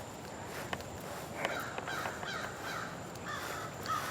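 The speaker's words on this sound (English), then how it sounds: "I hear crows." Crows caw in a city park in Portsmouth, Virginia, a few short, fairly distant calls sounding over low outdoor background noise and faint footsteps.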